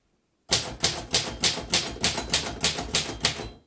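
Crisp, evenly paced keystrikes on a 1935 Royal Model O manual typewriter, about ten sharp mechanical clacks in a steady rhythm, close and loud with nothing else around them.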